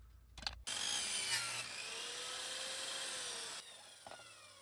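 A metal cutting saw slices a miter cut through 2x2 square steel tube, a loud steady cutting whine with a sharp clank at the start and end of the cut.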